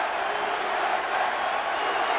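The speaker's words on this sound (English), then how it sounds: "And the crowd with its chant mixed in with the USA Mexico." Baseball stadium crowd at a USA versus Mexico World Baseball Classic game, a steady broad roar with mixed chanting voices sustained at even loudness throughout, no single voice standing out.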